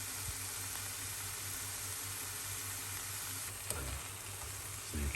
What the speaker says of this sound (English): Saute down that vegetables.